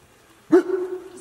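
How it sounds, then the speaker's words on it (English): A dog barks once loudly nearby during a calm yoga session, followed by a sustained whining, tonal yelp that trails off over about a second. "Like right now, Chamber's barking"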